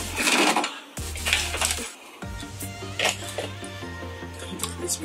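A sewing machine back stitching on wig material, its rapid mechanical needle chatter running steadily after a couple of brief starts, close by with faint background noise.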